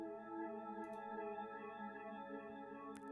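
Sustained bass tone from a beat production is washed through a Valhalla Supermassive reverb chain, forming a quiet, smooth, droning layered pad with a long ambient tail and a couple of faint high clicks.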